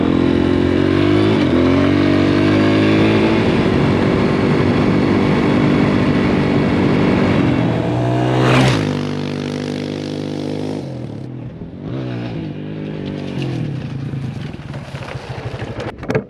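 A vehicle engine runs loudly and steadily while driving out to a cotton farm field, revving and droning before easing off and growing rougher and quieter toward the end, with no talk.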